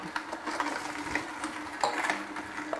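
A REVO830 cold press juicer runs through a beetroot and carrot juice, giving a steady mechanical whir with irregular clicks and knocks, close and moderately loud, with no talking.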